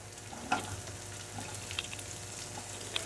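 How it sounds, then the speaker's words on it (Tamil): Soft, steady sizzling of onions frying in a pan, with a few faint clinks and scrapes scattered through. "இந்த வெங்காயம் ஒரு 30 செகண்ட் இது வந்து கொஞ்சம் வதங்கட்டும்"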